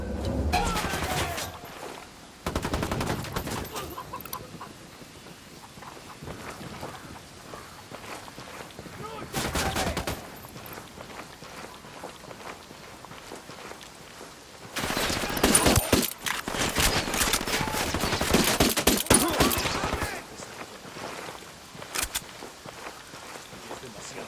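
Bursts of automatic gunfire rattle in the video game Ghost Recon Wildlands, loud volleys separated by quieter stretches of footsteps and movement, with someone talking in between.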